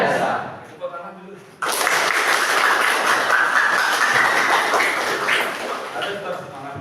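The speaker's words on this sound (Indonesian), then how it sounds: "Tepuk tangan dulu." A classroom of vocational high school students bursts into sustained applause after a brief pause, loud and steady for about five seconds before tapering off.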